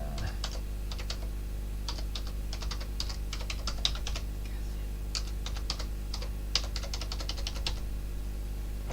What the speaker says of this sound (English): then I'll just type it in